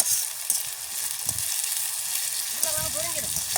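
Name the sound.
potatoes frying in oil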